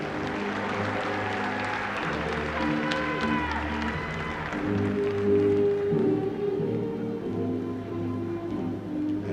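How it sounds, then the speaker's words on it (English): Audience applause at the Tuskegee University 2022 undergraduate commencement ceremony, honoring members of the Administrative Staff Council; a steady, rain-like wash of many hands clapping fills the hall for the whole stretch, with some voices and tonal sound beneath. "A round of applause for these members of the Administrative Staff Council."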